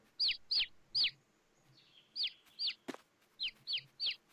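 Chickens in Farming Simulator 22 give short, bright clucks, mostly in pairs, repeating in a steady pattern over about four seconds, with one sharp knock in the middle and no talk.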